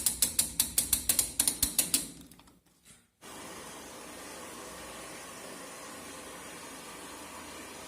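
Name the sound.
Zanussi Ideal automatic washing machine running after repair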